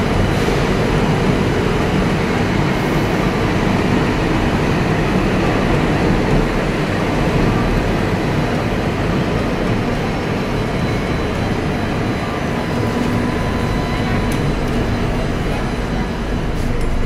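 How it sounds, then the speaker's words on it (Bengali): A metro train arrives at Jessore Road station with a loud, continuous roar and rumble that holds steady throughout, heard up close on the platform, with faint voices underneath. "দেখতে দেখতে মেট্রো ট্রেন ঢুকে পড়েছে"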